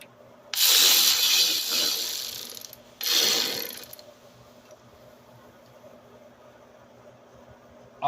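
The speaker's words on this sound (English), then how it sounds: "These bolts up top, the 10 millimeter for the radiator, we're about to tighten those up" A ratchet tightens 10 mm radiator bolts on a 2003-2005 Lincoln Aviator with the 4.6L V8, in two close bursts of rapid clicking separated by a short pause, then quiet.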